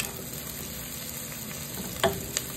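Garlic frying in a pan and being stirred, a soft continuous sizzle with a couple of sharp utensil clicks near the end, close and without talk.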